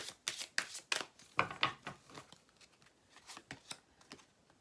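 Tarot cards are handled and laid out close up, with a run of crisp, quick flicks and soft slaps, then lighter scattered rustles, quiet and intimate.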